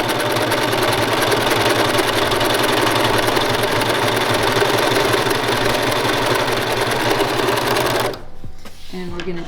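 A serger trims the seam allowance on heavy denim-weight fabric, a loud continuous buzzing hum held for eight seconds before cutting off into quiet rustling.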